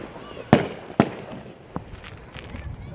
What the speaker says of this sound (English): You can see like the flashes in the sky of the fireworks.